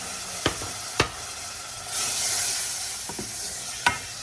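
Roasted capia peppers sautéing in olive oil, a low steady sizzle broken by a few sharp, distinct clacks of the spoon against the pan, close and alone without any voices.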